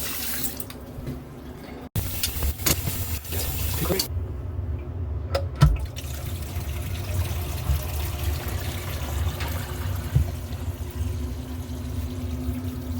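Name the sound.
water leaking from plumbing under a new vanity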